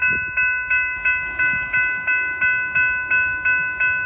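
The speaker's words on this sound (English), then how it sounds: "Eastbound empty train." An empty eastbound train rumbles past with a steady rhythmic clatter at Corboy Road near Sardinia, Ohio, while a crossing bell dings in an even, repeating beat throughout.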